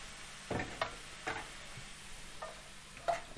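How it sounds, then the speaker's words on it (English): A spoon stirs jackfruit in sauce for sliders in a pan, producing several short scraping strokes and soft wet clicks against a quiet background hiss. "Let's stir it up and see what happens"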